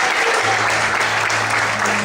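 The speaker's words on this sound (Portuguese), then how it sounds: "Você pode desocupar sua mão e aplaudir o Senhor nessa noite." A church congregation applauds together in a steady, dense clapping that fills the room for a couple of seconds, with faint voices mixed in.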